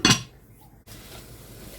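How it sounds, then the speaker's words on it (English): A lid goes onto a pan of pasta cooking on the hob, a single sharp metallic clink at the start followed by a quieter clatter and then a low steady background of cooking noise. "I'm going to pop the lid on"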